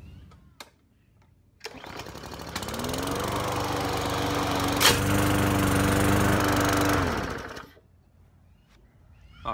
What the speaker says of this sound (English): Today we are going to be mowing over these pins with this lawnmower.